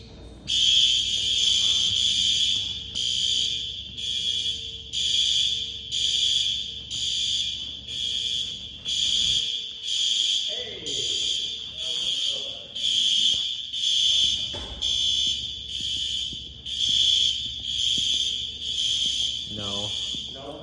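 A high school fire alarm sounds in a steady, repeating pulsed tone during a synchronization test, moderately loud over room noise, with people talking quietly in the background.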